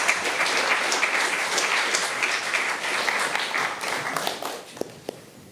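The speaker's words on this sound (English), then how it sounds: "Can I have a very warm applause for Stella Braam?" Warm applause from a conference audience for a guest at a press freedom event, dense steady clapping that thins and fades toward the end with a few last isolated claps.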